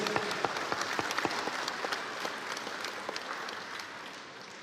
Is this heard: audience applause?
yes